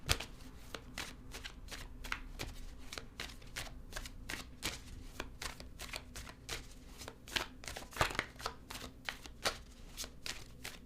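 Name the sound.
shuffling tarot cards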